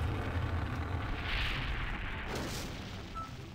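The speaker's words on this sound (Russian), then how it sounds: "Ого, взрыв! Мощь!" Bomb blast in the Garry's Mod video game: a broad, sustained low rumble with a hissing noise swell, heard as a dense, steady roar throughout with no voices.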